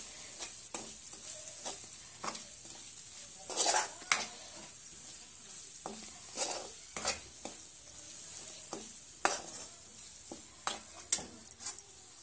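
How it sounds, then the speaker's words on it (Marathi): Coriander and turmeric powder sautéing in oil in a pan, a steady soft sizzle with intermittent spoon scrapes and clinks against the pan, close and moderately loud. "मसाले चांगल्या प्रकारे आपल्याला तेलात पहिला परतून घ्यायचा आहे।"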